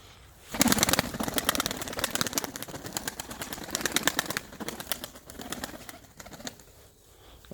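A male Hummy pigeon moves in and out of its coop, soft wing flaps and shuffling amid low cooing and bird sounds, close by, with a quiet stretch near the end.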